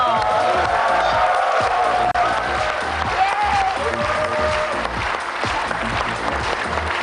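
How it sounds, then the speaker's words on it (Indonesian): Studio audience at an Indonesian inspirational talk show applauds and cheers loudly for an arriving guest, a dense, steady wash of clapping with whoops and music-like tones underneath, plus some talk mixed in. "kita berikan tepuk tangan yang paling meriah untuk Pak Sandiaga Uno."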